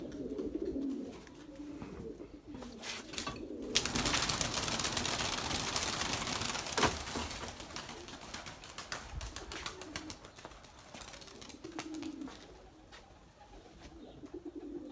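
Pigeons coo softly in bursts against a steady background hiss, with some rustling and flutter in the middle.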